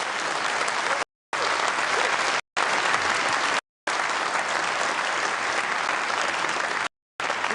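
Conference audience at a UK Conservative Party leadership event breaking into sustained, dense applause from a large crowd, steady and loud with several abrupt cuts of silence.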